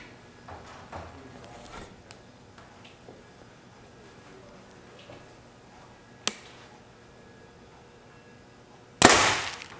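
A compound bow fitted with a drop-away arrow rest is shot outdoors, with a sharp crack midway and a louder burst of impact at the end, between quiet ticks and handling noises.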